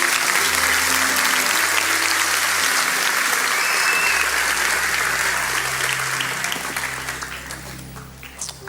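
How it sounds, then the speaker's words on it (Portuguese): A church congregation at an evening service gives loud, sustained applause, a dense wash of clapping over a low organ or keyboard drone that thins and fades toward the end. "Dê o melhor aplauso que você pode dar ao Senhor, por favor"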